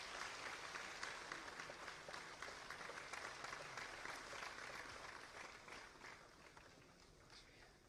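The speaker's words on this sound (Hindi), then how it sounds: "कृपया तालियों से स्वागत करें डॉक्टर भुवन चंद्र तिवारी" Audience applause at a formal award ceremony greeting the head of a cardiology department, a dense, steady clatter of many hands clapping that holds for several seconds and slowly tapers off near the end.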